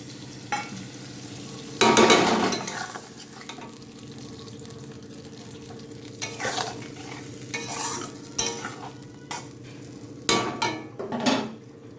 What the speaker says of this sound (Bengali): মিশিয়ে দেবো মিশিয়ে দেওয়ার পর আমি এই মশলার বাকি ধোয়া জলটা দিয়ে দেবো